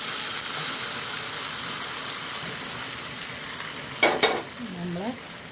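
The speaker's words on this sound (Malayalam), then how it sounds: "നമ്മൾ കൂട്ടാനിലേക്ക് ഒഴിച്ചു കൊടുക്കുന്നുണ്ട് വറവ്" Hot varavu tempering poured into curry and pachadi bursts into a loud, short sizzle with sputtering crackles near the end, over a steady background hiss of frying.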